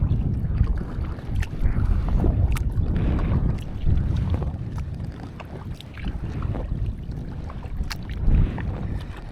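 A kayak paddled with a wing blade paddle gives a regular rhythm of soft splashes and water swishes with each stroke, set against a background of wind rumble and moving water.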